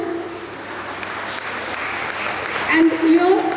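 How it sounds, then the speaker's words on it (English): Audience applause for young sports achievers at a school award ceremony, a steady wash of clapping that swells toward the end, with a voice speaking over it. "they also deserve a loud round of applause from all of you"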